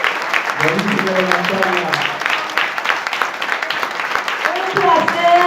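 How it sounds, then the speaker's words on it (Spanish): An audience applauds after a talk at a gathering, a steady wash of clapping filling the room while someone speaks over it. "Un fuerte aplauso para compañeros Santiago."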